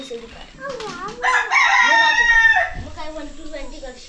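A rooster crows loudly nearby in a hill village near Rajapur, Ratnagiri, a long cock-a-doodle-doo, with people talking around it before and after.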